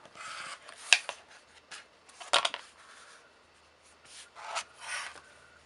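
Scissors or a cutter slices quilt fabric into 3 7/8 inch blocks, giving scattered soft rasping strokes and a few sharper snips, close and fairly quiet, with pauses between cuts.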